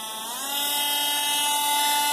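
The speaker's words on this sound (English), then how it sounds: "So I'm going to fire up the Dremel." A Dremel rotary tool spins up and whines steadily, its high-pitched tone rising as it starts cutting into an old brass piece, loud and close with no talk.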